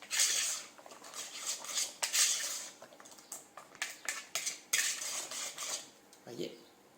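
A utensil scrapes and clinks against a bowl while courgette and carrot terrine mixture is stirred, giving a run of close, irregular metallic knocks and scrapes with brief pauses and no talk.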